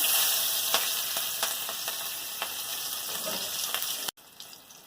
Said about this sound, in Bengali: কালো জিরা ফোড়নে দিচ্ছি, একটা কাঁচা লঙ্কা চিরা করে দিয়ে দিচ্ছি